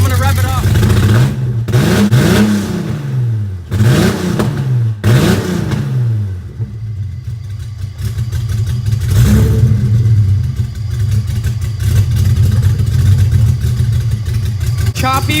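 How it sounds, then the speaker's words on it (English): BMW E34 535i engine, running on old fuel, revving in several sharp rising bursts over a low steady rumble, then settling back toward a choppy idle; close and loud, with no talk over it. "I'm gonna rev it up."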